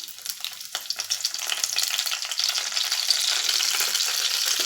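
Curry leaves and fennel powder hitting hot oil for a crab pepper fry, a steady close crackling sizzle that builds and holds without pause.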